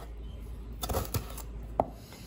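A knife chops food on a cutting board during Sri Lankan curry preparation at a farm house in Ambewela, with a few soft, separate taps and a light scrape in quiet surroundings.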